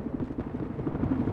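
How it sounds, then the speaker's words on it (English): Helicopter in the video game Battlefield 4 with a steady low rotor chop in a rhythmic pulse, heard alone at moderate loudness. "Chopper's back up."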